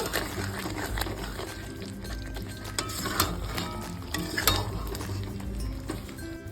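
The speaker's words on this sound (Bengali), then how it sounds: "এবার খুব ভালো করে একটু নাড়িয়ে নেব" Chicken curry in yogurt sauce with coriander and ground kasuri methi being stirred in a pot, soft wet scraping and occasional utensil clinks against the pan, close and continuous.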